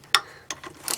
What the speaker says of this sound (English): It's a pretty cool ratchet. It's a 1/4 inch, but it articulates